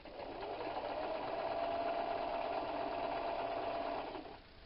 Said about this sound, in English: and then sewing. Needle down.